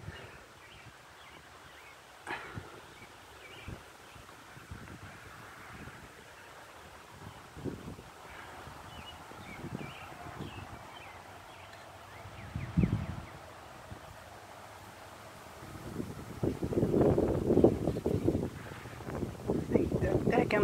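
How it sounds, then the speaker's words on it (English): Wind blowing outdoors during a Fourth of July display, soft gusty rushing and buffeting on the microphone that swells louder near the end, with a person speaking intermittently. "It's windy today."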